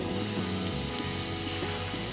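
Garlic and chili sizzle steadily in hot oil in a pan, a close, continuous frying hiss with small crackles and pops scattered throughout.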